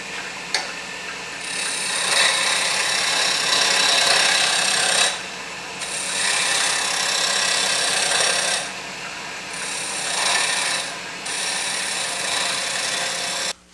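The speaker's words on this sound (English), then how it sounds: "a little bit more work with a skew chisel." Steady rasping of a skew chisel cutting a spinning wood spindle on a lathe while shaping little people toys, running continuously with a few short pauses where the tool lifts away.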